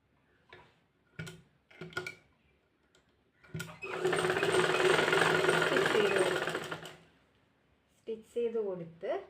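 A domestic sewing machine stitches a three-piece nightie in one steady, loud run of about four seconds. Brief speech comes before and after the run.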